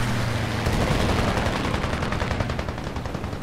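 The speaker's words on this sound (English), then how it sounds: "Someone's shooting at us." Rapid machine gun fire crackles in an air arcade dogfight in the War Thunder video game, a dense loud burst of continuous shots lasting a few seconds.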